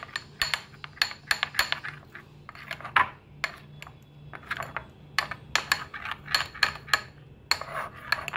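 A spoon clinking repeatedly against a bowl while kulfi ingredients with rose sharbat are mixed, quick, irregular metallic taps and scrapes up close, with a faint steady hum underneath.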